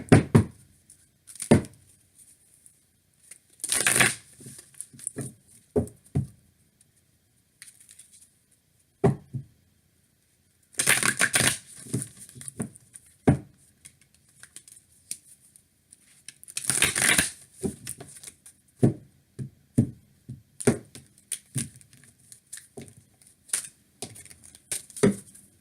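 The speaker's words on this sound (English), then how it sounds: "Let's pull another card, okay, for this" Tarot cards shuffled and drawn from a deck, giving bursts of crisp riffling and dry papery slaps spread irregularly over the stretch, fairly close, with no talking.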